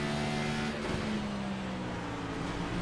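A touring race car in the iRacing sim at Laguna Seca draws alongside, its engine holding a steady droning note close by, with other cars humming underneath and no talking.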